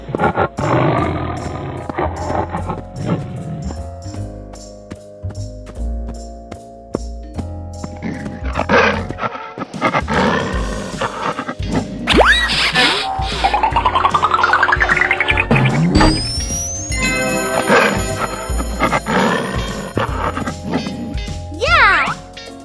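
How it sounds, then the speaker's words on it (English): A tiger roar in a mystery pool video game, with repeated growling roars mixed with cartoonish game music, rising sweeps and sound effects, loud and busy throughout. "Tiger."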